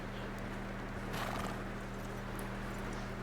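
Horse hooves in the video game Red Dead Redemption 2, soft clip-clop steps under a steady low hum of ambience, faint and close, with no clear rhythm.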